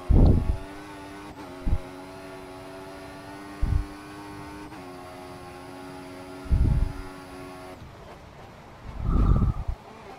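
A Formula 1 car in the F1 2014 racing game at Sochi lets out a high, sustained engine whine that climbs steadily and drops at several gear shifts, with intermittent low thumps and bursts breaking in.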